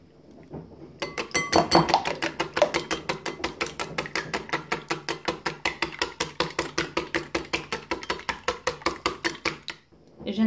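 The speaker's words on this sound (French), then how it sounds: "on mélange un petit peu, j'introduis l'huile" A whisk beats pizza muffin batter in a bowl as oil is added, producing a fast, regular rattling of metal against the bowl that runs for about nine seconds before stopping.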